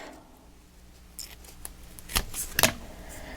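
A few crisp snips of scissors cutting paper, close by, with light rustling between cuts.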